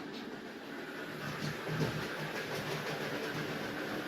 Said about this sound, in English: we're going to watch some trains go round